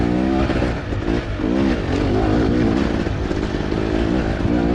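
A 2025 WP Cone Valve-equipped motorcycle shifts up to third gear and accelerates, its engine droning loud and close throughout with rising then resettling harmonic pitch sweeps and steady wind roar, with no talking.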